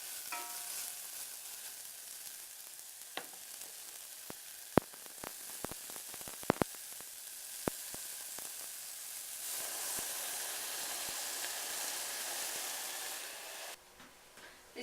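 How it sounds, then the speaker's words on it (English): Carrots and onions sautéing in a pan for vegetable barley soup give a steady, close sizzle with scattered sharp clicks and taps from stirring, then the frying grows brighter and louder before stopping abruptly near the end. "really it's going to take a few minutes for the saute to happen"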